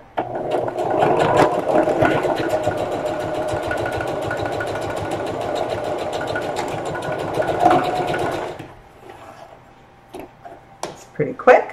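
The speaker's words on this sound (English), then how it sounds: "we're going to sew across again about a 1/4 inch seam" A sewing machine stitches a 1/4 inch seam on a lunch tote, humming and ticking quickly and steadily up close for about eight seconds before stopping, followed by quieter handling clicks.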